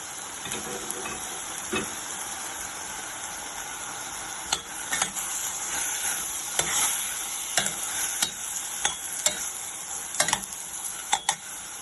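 Spring dosa filling of vegetables with soy sauce, rice vinegar, Sriracha and Maggi masala sizzling in a pan, steady hiss broken by repeated sharp scrapes and clacks of stirring.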